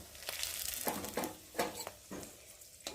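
Dried red chillies and a bay leaf fry in hot mustard oil in a pan, a soft, steady sizzle broken by several short scraping stirs, close but fairly quiet.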